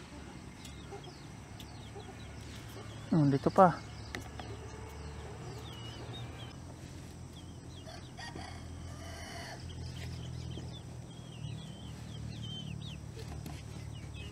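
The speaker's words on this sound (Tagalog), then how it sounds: "Daming manok dito sa ating harapan." A rooster crows once loudly, with scattered chicken clucks and farmyard noise around it at a campsite in Benguet; a voice speaks briefly.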